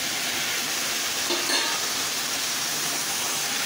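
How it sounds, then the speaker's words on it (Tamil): Tomatoes sautéing in a pan for dried anchovy thokku, a steady, close sizzle and hiss of frying that continues throughout, with a faint stirring scrape near the middle. "தக்காளியும் நல்லா வதக்கிட்டு அது கொஞ்சம் வெந்ததுக்கு அப்புறம்தான் கருவாடு போடணும்"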